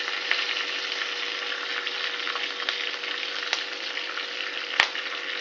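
Chopped garlic with green chili sizzles steadily in hot oil for tomato chutney, a dense even crackle running throughout, with a sharp utensil tap near the end.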